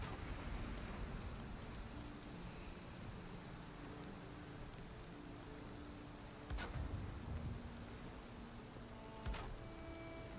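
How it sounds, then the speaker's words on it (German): Rain falls during a storm in the video game Valheim as a faint, steady hiss of drops, with a couple of brief louder crackles breaking through. "Ich finde immer, das regnet einfach zu den unpassendsten Momenten im Spiel."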